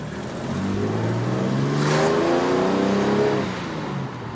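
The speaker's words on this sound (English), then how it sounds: "It's got a straight 6 4-litre engine." A Chrysler Valiant Charger E49 R/T's straight-six 4-litre Hemi engine revs up strongly, its pitch climbing steadily before easing off, loud and close with a smooth droning growl.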